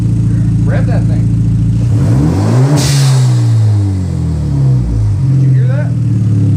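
A 2013 Hyundai Genesis Coupe with an RFL blow-off valve revs hard, its engine climbing then falling, with a whooshing valve release at the peak, followed by further revving. It's close and loud, with people talking over it.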